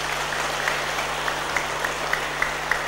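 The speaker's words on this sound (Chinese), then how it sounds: "让我们代表大师父以鼓舞的掌声感恩法师" An audience at a Buddhist Dharma lecture claps in thanks to the teaching monk: steady, moderately loud applause from a hall crowd, with a low electrical hum underneath.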